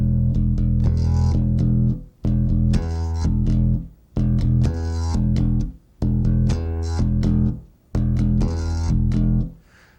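Bass guitar playing a syncopated octave rhythm, loud and close, with repeated bursts of pulsing notes separated by short gaps and no voices.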